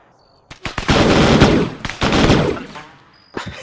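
MG3 machine gun firing in the military game Arma 3, two loud sustained bursts of rapid automatic fire about a second long each, close and dominant, with brief single shots around them.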